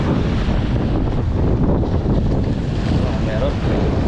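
Strong wind blows outdoors at a cave-like spot and buffets the microphone in a loud, constant low roar that barely lets up for the whole stretch.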